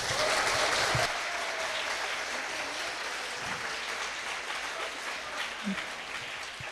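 An audience at a Korean-Japanese high school sister-school anniversary ceremony applauds to welcome the school principal, a broad sustained roll of clapping that starts fuller and settles into a steady, slightly softer patter.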